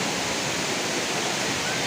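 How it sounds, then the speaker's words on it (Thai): Nang Khruan waterfall in Tak province, Thailand, pours in a steady, full roar of rushing water that fills the whole clip evenly, close and loud, with no voices over it. "อันนี้คือน้ำตก"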